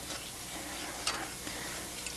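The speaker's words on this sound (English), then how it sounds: "So you just keep stirring this." A spoon stirs a spicy cheese sauce in a pan, making a soft, steady scraping with a faint sizzle underneath and one brief clink partway through, all fairly quiet.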